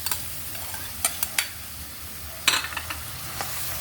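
Minced garlic, onion and ground pork fry in a pan at a soft, steady sizzle, broken now and then by sharp scrapes and clinks of a spatula stirring, with no talk.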